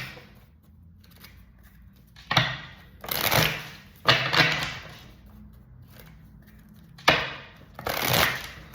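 Tarot cards are shuffled in several quick riffling bursts, each a brief crisp flurry of card edges separated by quiet pauses, close and fairly loud with no talking.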